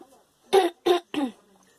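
Three sharp coughs in quick succession, close to the microphone, after a short quiet pause.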